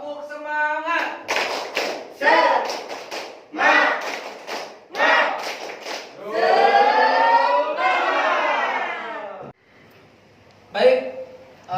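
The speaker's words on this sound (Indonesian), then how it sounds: "Tepuk semangat." Indonesian school class standing for a rhythmic group clapping chant, sharp patterned bursts of claps alternating with loud voices chanting and shouting together, then a brief pause and one more burst.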